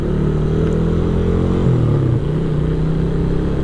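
A motorcycle ridden at full throttle on a morning road ride in Sekupang, Batam, its engine droning loud and steady with a pitch shift midway, close to the mic and with no talk over it.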